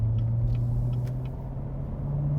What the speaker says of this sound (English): It's a black Corvette Stingray 2016 C7.